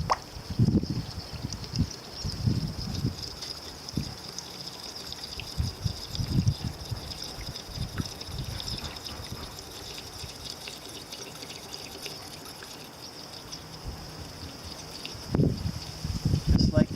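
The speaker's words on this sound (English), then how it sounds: "And then we're just going to add 4 quarts" Engine oil glugging and trickling into a Jeep JK engine through a funnel, soft liquid pouring in uneven bursts with a faint background hum.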